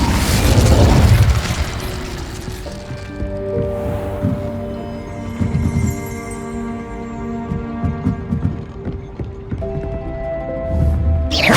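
A fire spell cast in the Hogwarts Legacy video game: a loud whooshing boom at the start, then sustained magical hum and scattered crackling bursts, with another heavy burst near the end.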